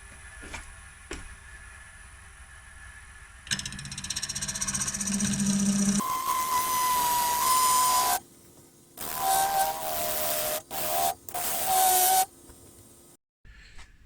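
A wood lathe cuts a recess in a maple bowl: a steady mechanical hum and whine, then rougher scraping bursts of tool contact that start and stop in chunks, with short silent gaps near the end.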